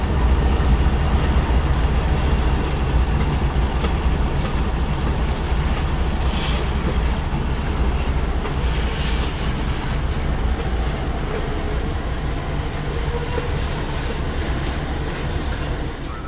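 A CN freight train hauled by Geep locomotives rolls past on the Three Hills Subdivision, a loud, steady rumble of wagons with faint clacking of wheels over rail joints, continuous and near for the whole stretch.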